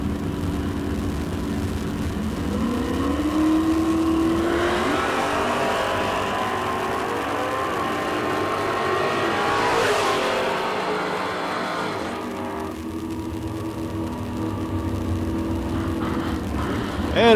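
Drag racing run of a 1996 Mustang from New Jersey against a Camaro: loud engine roar sustained throughout, rising as the cars launch and accelerate down the strip, with a rising whine and a brief peak mid-run before tailing off.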